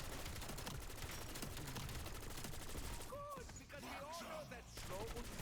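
Rapid MK78 light machine gun fire in Black Ops 7 Zombies, a dense continuous burst running steadily under game effects and a brief talking voice near the end.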